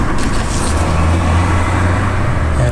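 A car rumbles loudly and steadily close by as it pulls up in front of a door on a busy street, its deep engine drone constant throughout, with no talking.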